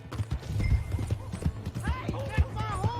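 Horse hooves clip-clopping at a steady trot in the western game Red Dead Redemption 2, close and rhythmic, with someone shouting over the hoofbeats toward the end.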